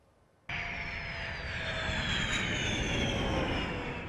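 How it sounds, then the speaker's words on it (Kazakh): Sukhoi Su-30SM military fighter jets landing at Taldykorgan air base, a loud sustained jet engine roar starting abruptly and holding steady with a high whine, no talk. "Алғашқы 4 ұшақ Талдықорған әуе базасының ұшу алаңына қонды."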